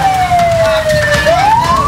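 An ambulance siren wails steadily, caught in a road blockade by truck drivers, its tone sliding slowly down and then rising again, loud and continuous over traffic noise.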